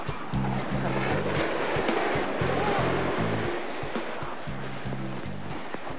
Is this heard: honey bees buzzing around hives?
no